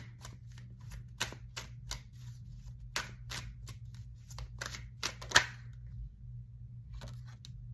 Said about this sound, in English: let's get a few more cards out here to help break this down